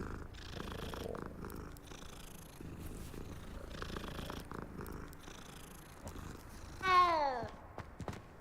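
A kitten purring in the game Hogwarts Legacy, a soft steady rumbling purr running for several seconds, then a single clear rising meow close up near the end, with no talking.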